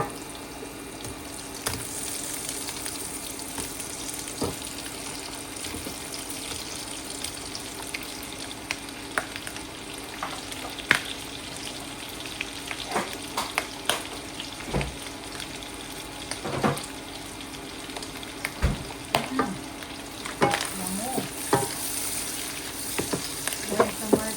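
Meat for Filipino kaldereta sizzles steadily in a pan, with scattered scraping and clinking stir strokes rising over the constant frying hiss, close and without talk.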